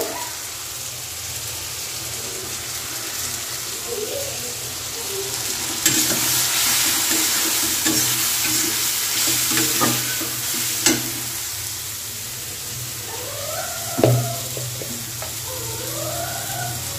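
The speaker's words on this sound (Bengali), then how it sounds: "টমেটোটা কিছুক্ষণ ভাজার পর এখন আমি এখানে হলুদ গুঁড়ো দিব" Tomatoes fry loudly in a pan with a constant, close sizzle, and a spoon stirs them with occasional knocks; partway through turmeric powder is added and the hiss grows brighter, with no voices.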